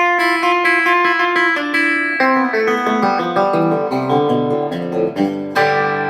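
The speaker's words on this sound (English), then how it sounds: "Called a banjo roll. Now you can do that with open strings too, you know." Electric guitar plays a rolling, banjo-style pattern of quick repeated plucked notes, clean and steady, ringing together as the notes descend, with no talking.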